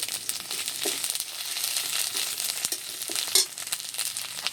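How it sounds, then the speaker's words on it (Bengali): Ginger, garlic and onion paste fries in a pan with crabs, giving a close, steady sizzle. Occasional crackles and stirring scrapes come through. "আদা রসুন পেঁয়াজটাকে একটু ভেজে নিয়েছি"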